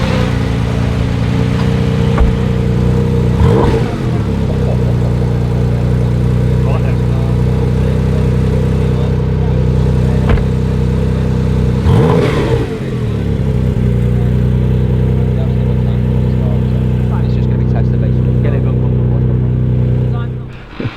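Porsche engine droning steadily from inside the car at a Festival of Speed drive, with strong low engine tones throughout and two clear revving swells as it accelerates and shifts, loud and close, fading at the very end.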